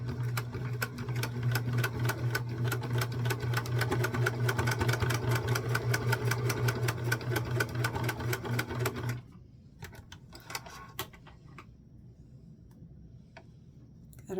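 A sewing machine stitches down the center of a mini sunflower quilt, giving a steady, rapid mechanical ticking hum close by for about nine seconds before it stops and the room falls quieter.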